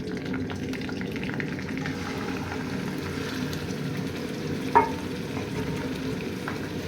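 Ground onion fries in hot cooking oil for a homemade black chickpea curry, giving a steady sizzling crackle with a single sharp clink of a spoon partway through.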